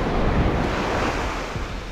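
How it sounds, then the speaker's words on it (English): Ocean surf breaking on a New Jersey beach makes a steady, loud wash of waves with wind buffeting the microphone, with no voices. "wait for a wave to come in"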